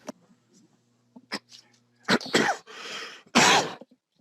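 Several sharp, close coughs burst out one after another, separated by brief quiet pauses and faint throaty sounds.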